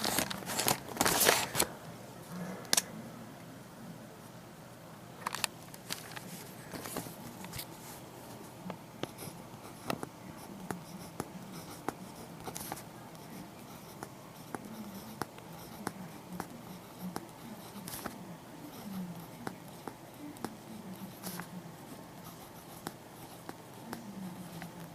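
Pilot Precise Grip Bold rollerball pen writing on thin paper, a soft continuous scratching with faint taps and strokes through a quiet room, with no talk.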